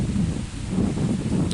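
Strong wind buffeting a microphone outdoors, a loud continuous rumbling roar that swells and eases throughout.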